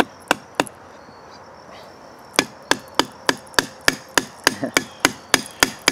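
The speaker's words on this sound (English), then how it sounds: "I'm actually hammering this into the log with the knife." A knife is batoned through a rain-damp log with a wooden stick, making sharp, evenly spaced thwacks: a pair of blows, a pause, then a steady run of about a dozen strikes outdoors, with no voices.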